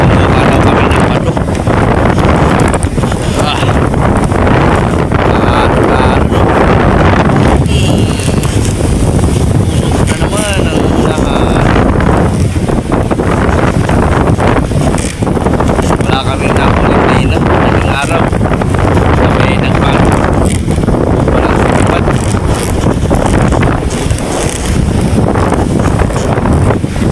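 Strong habagat monsoon wind buffets the microphone at sea from a boat, a loud, continuous roar with heavy gusting rumble and spray-like hiss throughout, steady and close.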